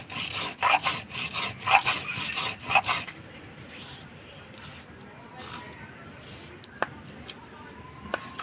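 Ginger and cumin are ground together on a grinding stone: rhythmic rasping strokes, close and fairly loud, then the scraping fades into softer rubbing with occasional faint knocks and background sounds.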